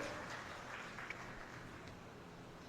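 Faint, steady clapping from an audience welcoming guests at a national seminar in Bilaspur, Chhattisgarh; the applause sounds distant and even throughout, with no one speaking over it.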